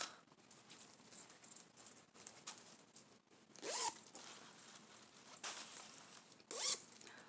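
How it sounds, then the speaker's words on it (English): A zipper on a crochet bag pulled in a couple of quick, close zips among soft handling rustles, quiet overall. "Orange zipper."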